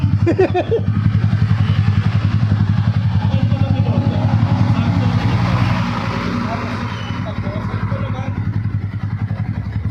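An upgraded Yamaha motorcycle, bored from 149cc to 183cc and fitted with an open carb and open exhaust, idles close by with a fast, throbbing pulse. People talk over it throughout.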